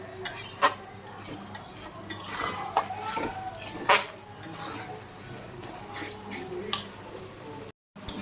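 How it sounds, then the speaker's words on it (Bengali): A spatula scrapes and clinks against a pan as spiced masala is stirred and fried for a mutton dish, repeated metallic scrapes over a soft sizzle, with someone talking at times. "এবার ভালো করে কষিয়ে নিচ্ছি মশলাটা, আর একবার নেড়ে চেড়ে নিচ্ছি"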